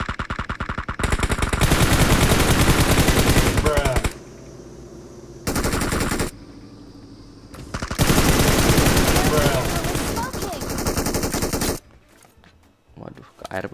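Automatic gunfire in a battle royale video game rattles in long, loud bursts separated by short gaps, with a softer stretch near the end.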